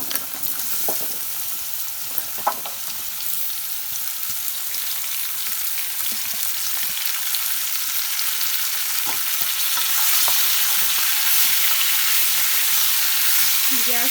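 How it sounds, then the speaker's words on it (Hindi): Chopped raw mango tipped into hot panch phoron spice tempering, giving a steady close sizzle and crackle that swells slightly louder toward the end, with no voices. "अब एहिमे ई कटला आम सबटा खसा देबै"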